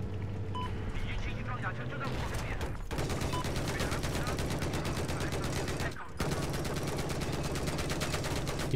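Rapid machine-gun fire in Battlefield 4, a steady rattling stream of shots running nearly the whole time with a brief pause near the end, loud and close, with a player's voice talking over it.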